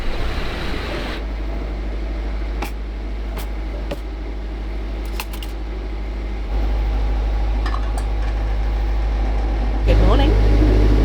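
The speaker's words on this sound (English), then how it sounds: "I hope you can hear me over the engine." A sailboat's inboard engine runs steadily while motoring off Greece, a continuous low drone that rises slightly in level partway through, with a few faint clicks and knocks over it.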